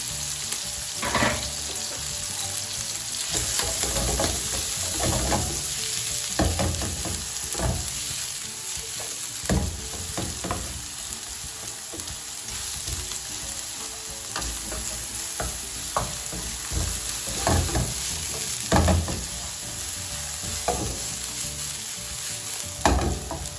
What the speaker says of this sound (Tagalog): lagyan natin ng konting olive oil. Lagyan natin yung ating sibuyas.